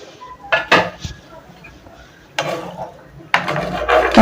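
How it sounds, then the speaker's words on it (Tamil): A spoon stirs semolina and water in a metal pan, making three separate bursts of scraping and clinking against the pan with quiet pauses between them. "நல்லா மிக்ஸ் பண்ணி விட்டுக்கங்க"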